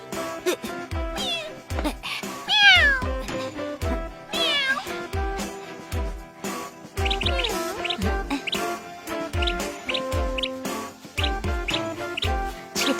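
A cat meows repeatedly in a dubbed Hindi drama, its rising and falling cries coming every couple of seconds, up close, over a steady rhythmic backing beat with no talking.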